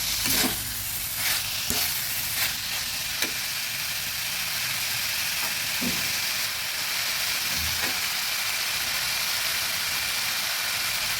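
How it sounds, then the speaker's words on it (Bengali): Broad beans fry in a pan with a loud, continuous sizzle, while a spatula stirs them and scrapes the pan with repeated soft strokes throughout. "দিয়ে দিচ্ছি সিমগুলো ভালোভাবে নেড়ে দিচ্ছি"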